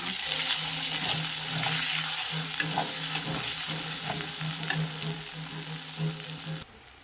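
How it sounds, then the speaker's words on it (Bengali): Spices with chili and turmeric fry in a pan, a dense, steady sizzle with frequent scraping stirs and light clinks, a low hum running under most of it before an abrupt stop. "চলো মশলাটা কষিয়ে নিই আমার মশলা কষানো হয়ে গেছে"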